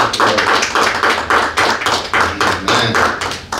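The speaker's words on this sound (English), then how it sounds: "Let's give the Lord a clap offering" A church congregation claps together as an offering of praise, loud and close, in rhythmic bursts of unison claps repeating about every half second.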